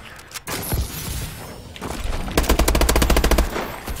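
Automatic gunfire in the video game Call of Duty Advanced Warfare, with scattered shots and then a rapid, evenly spaced burst of loud rounds lasting about a second.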